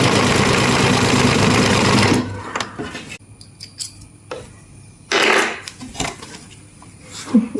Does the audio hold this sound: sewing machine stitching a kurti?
yes